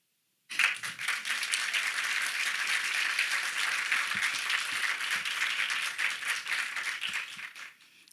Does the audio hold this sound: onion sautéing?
no